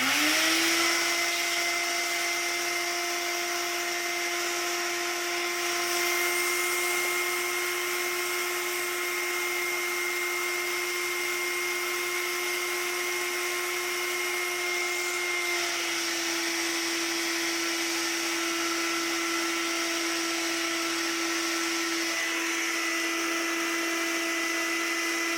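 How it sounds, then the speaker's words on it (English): A vacuum cleaner runs steadily on a 1976 Williams Grand Prix pinball relay board, a constant whining drone that holds loud and near for the whole stretch, dipping slightly near the end. "and I'll show you how to vacuum"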